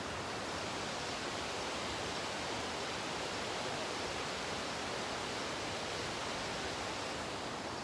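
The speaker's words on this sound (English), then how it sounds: "so you can hear this like river behind us, and it's just tumbling down through all the rocks" A river in the Grand Canyon tumbling down through rocks, a dense, loud, steady rushing roar with no pauses and no voices.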